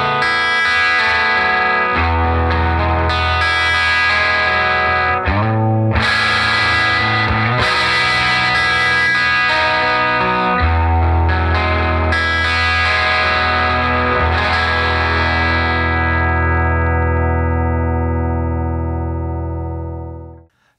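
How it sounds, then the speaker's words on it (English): Gibson ES-335 '59 reissue semi-hollow guitar on its bridge humbucker through an amp pushed into natural overdrive, loud distinct chords and notes ringing with long sustain before fading out at the end, no talk. "This has a humbucker in the bridge position, and for me, the Gibson semis just have this incredible clarity."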